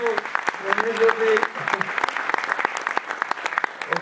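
An audience at a tribute event in the Pylaia-Chortiatis municipality claps in a dense, steady burst of applause that continues to the end, with a voice speaking briefly at the start.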